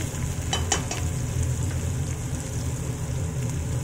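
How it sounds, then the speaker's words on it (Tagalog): Ginger, garlic and onion sauté in a pan with a steady close sizzle and crackle, broken by a few brief scraping stirs near the start. "I-saute lang natin in 2 minutes until little bit golden brown."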